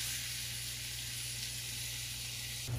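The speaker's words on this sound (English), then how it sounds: "I'm gonna add my lamb. I'm gonna brown this" Ground lamb and onions browning in a hot pan give off a steady, close sizzle and hiss that runs without a break, with no voices.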